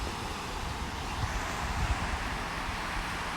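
Steady wind blows on a chilly beach, a continuous broadband rush with faint gusty swells, close and moderately quiet, with no voices.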